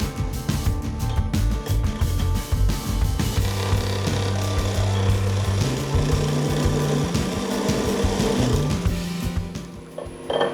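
A skew chisel cuts a tenon on spinning wood on a lathe, a loud, close, continuous rumbling chatter with irregular scraping bursts throughout, tapering slightly near the end, with no speech.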